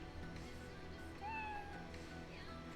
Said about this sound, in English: did I just hear a meow?